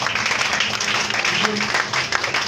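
A church congregation applauds, a dense wash of clapping under a speaking voice, steady and fairly loud throughout.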